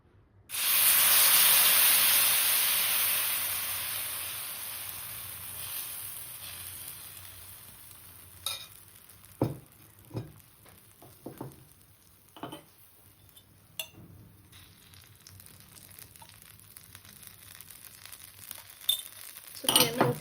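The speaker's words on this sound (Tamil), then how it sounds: "அடை ஊற்றிக்கலாம்." Adai batter poured onto a hot, heavy stone griddle, a loud hissing sizzle at first that fades over several seconds, followed by scattered clinks and taps of a ladle and utensils.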